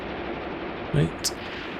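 Tank guns firing in the war game Graviteam Tactics: one dull, heavy boom lands midway, followed by a short sharp crack, both muffled against a steady wash of battlefield noise.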